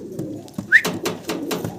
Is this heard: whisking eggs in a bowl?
no